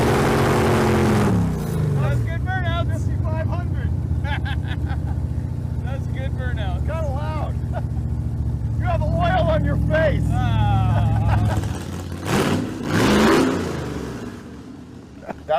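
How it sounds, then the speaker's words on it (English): A car engine revs hard and steadily at high rpm during a smoky tire burnout, held loud and close for most of the stretch before easing off, with people talking over the roar. "That's good burnout."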